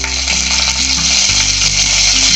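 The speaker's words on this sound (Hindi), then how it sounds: "जीरे को हम तड़कने देंगे।" Cumin seeds with bay leaves crackling in hot oil, a loud, continuous close-up sizzle with a low steady hum underneath and faint stirring, no talking.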